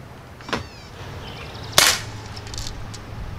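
A Daisy Powerline 35 air rifle fires a shot, a sharp, loud crack standing out against quiet outdoor background, with a smaller snap shortly before it.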